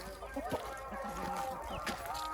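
Soft clucking and murmuring from chickens over a steady background hum, with a few short squawks.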